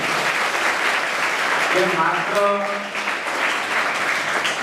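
An audience at a free Class 10 coaching class opening claps steadily through the whole stretch, a dense wash of applause, while a voice briefly speaks over it.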